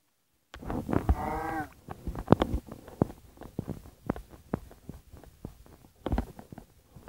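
A cow moos once in the video game Minecraft PE, a short, clear low call followed by a run of quick footsteps and clicks, with no talking.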